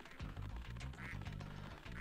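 Cartoonish duck quacking from Spyro 2: Ripto's Rage in the Mystic Marsh level, a steady run of loud, close, buzzy game quacks over a dense backdrop of game music and ambience.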